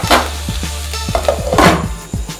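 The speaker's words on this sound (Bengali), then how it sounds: "একটু ফ্রাই করব, একটু হালকা হালকা লাল লাল হবে" Mutton pieces fry in a pan for a korma, with a continuous sizzle under repeated close clinks and scrapes of a utensil stirring against the pan.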